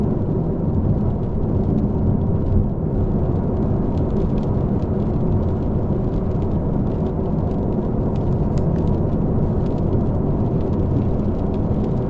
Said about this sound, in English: Oh, did I mention it's raining outside right now?